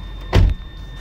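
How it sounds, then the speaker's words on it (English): A single solid thud of a Nissan X-Trail hybrid's door shutting nearby, short and heavy, against a quiet background hum. "let me close the door"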